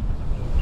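Strong desert storm wind buffeting the microphone, a loud, continuous low roar for under a second.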